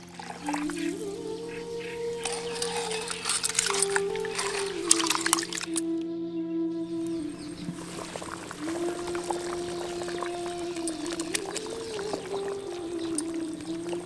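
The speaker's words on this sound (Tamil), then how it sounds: "இப்போ நம்ம எடுத்துக்கிட்ட அரிசியில கொஞ்சம் தண்ணி ஊற்றி ஊற வச்சிடலாம்." Water pours steadily onto rice in a container with a continuous trickling splash, while a low hum runs underneath.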